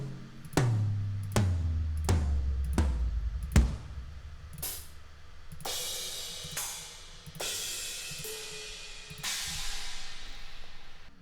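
A Get Good Drums Invasion kit is struck one piece at a time: several booming toms and kicks ring out in turn, followed by a series of washy crashing cymbal hits, each left to decay alone.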